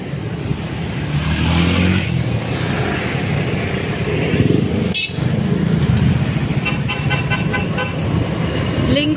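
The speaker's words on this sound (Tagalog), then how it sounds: "Linggo ngayon, guys, kaya maraming sasakyan." Heavy Sunday road traffic beside the Pasig City floodway: a constant loud rumble of passing cars and buses, with a few short horn toots toward the end.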